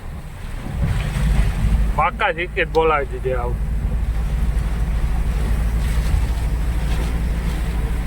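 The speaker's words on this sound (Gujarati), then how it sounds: "જોવ તો ખરી કેવો વરસાદ આવે" Heavy rain pours onto a truck in a loud, continuous wash of noise, with someone briefly speaking near the start.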